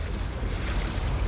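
Floodwater sloshing and washing through a flooded factory, a continuous close churning rush mixed with wind noise on the microphone.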